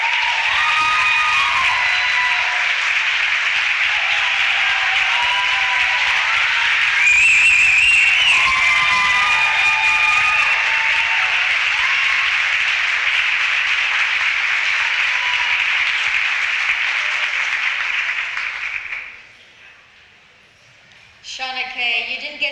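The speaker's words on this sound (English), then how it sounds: "Please give her a round of applause." Sustained applause from an audience at a school district convocation, a dense wash of clapping that swells briefly and holds for about eighteen seconds before fading out, with a voice speaking at the end.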